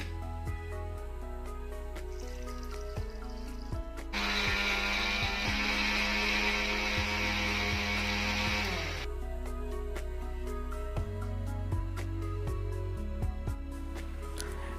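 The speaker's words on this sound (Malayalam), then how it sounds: "ഇവയെല്ലാം ചേർത്ത് നമുക്ക് മിക്സിയിലിട്ട് അടിച്ചെടുക്കാം" A kitchen mixer grinder whirs for about five seconds while blending gooseberries, tulsi leaves, Indian borage leaves and water, a loud burst set against steady background music.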